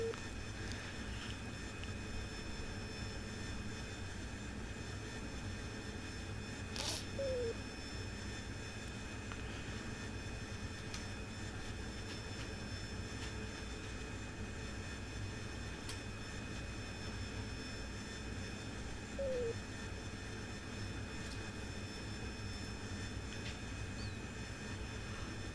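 Steady jet engine drone of an AV-8B Harrier in flight within the DCS combat flight simulator, a constant broadband roar holding evenly throughout with faint cockpit tones, no talking.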